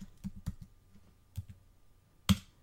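Keys are tapped on a computer keyboard while typing a search query, a few soft, irregular clicks ending in one sharper, louder keystroke, close and quiet with no speech.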